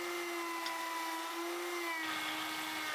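Router with a 1-inch bottom cleaning bit cutting the bearing faces of a wooden ship's windlass, a steady high-pitched whine that dips slightly partway through, close and continuous.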